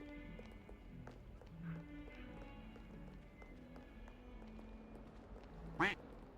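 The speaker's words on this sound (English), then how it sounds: "I don't have a clue where that duck is." A duck quacks faintly in Hogwarts Legacy amid running footsteps and hoof-like clopping, with a short louder burst near the end; the game sounds stay low and distant.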